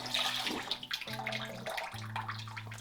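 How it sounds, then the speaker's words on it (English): A short burst of tap water running as a German Dovo Solingen Bismarck straight razor blade is rinsed, a close, steady splashing flow with small clinks. "I'm choosing to rinse the blade ever so often"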